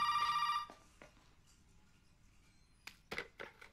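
A telephone rings in Resident Evil 7, a bright electronic ring from a phone in a room near a save room, with one ring burst at the start and more broken bursts near the end, separated by a quieter gap.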